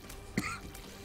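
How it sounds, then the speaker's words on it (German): A gamer streaming The Binding of Isaac: Rebirth gives a single short, faint cough or throat clear. "Ich muss andauernd husten"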